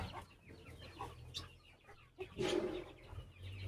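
Hens clucking close by as they are let out to graze, short irregular clucks with one louder squawk near the end, over faint outdoor background.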